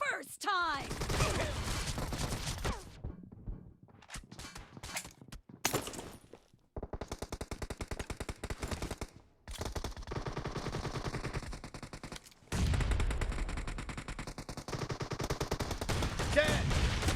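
Shotgun blasts and rapid gunfire in PUBG Mobile team deathmatch ring out loud and close, in bursts of dense repeated shots separated by brief gaps, with voices heard at times.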